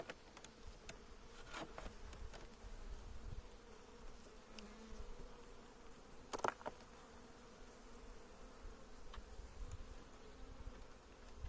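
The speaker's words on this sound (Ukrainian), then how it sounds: "тут більше бджоли" A steady, dense hum of many honeybees buzzing continuously at a hive, close by, with a few sharper passes of individual bees flying near; no voices.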